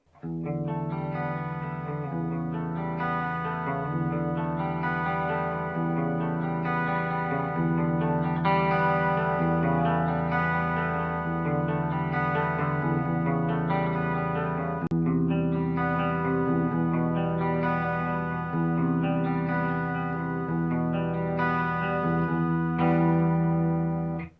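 Clean electric guitar playing through a Quilter 101 Reverb Mini amp head with no reverb, steady strummed chords with sustained harmonic tones and no buzz, filling the whole stretch at even loudness.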